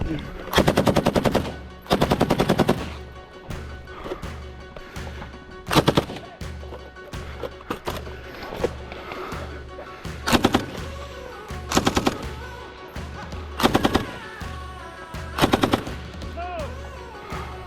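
A machine gun firing at a shooting competition, about a dozen sharp, loud bursts of rapid shots, some long and some short, with quieter gaps between them.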